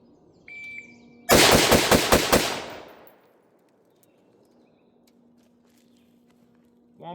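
Rapid string of about six rifle shots from a BCM AR-style rifle, evenly spaced roughly a fifth of a second apart, loud and close, with the last shot's report and echo tailing off into quiet.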